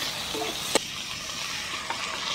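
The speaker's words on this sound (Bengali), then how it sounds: "এবার আমি একটু জল দিয়ে মশলাটাকে ভালো করে কষে নেব" Cumin and chili paste fries with a little water in a pan for a mushroom curry, a steady soft sizzle with one sharp clink of a stirring utensil partway through and a fainter one near the end.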